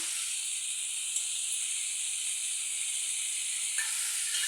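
Softened tomato with garam masala and cashews frying in a pan for a dhaba-style paneer masala gives a steady, bright, hissing sizzle that holds even and continuous, with no talk.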